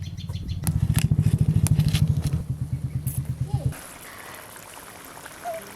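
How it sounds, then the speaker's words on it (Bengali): Poppy seed gravy for rui fish boiling in a pan, giving a quick, regular series of bubbling pops and plops that slow and thin out before stopping, then faint sizzling. "গ্রেভি তো ভালো করে ফুটে গেছে।"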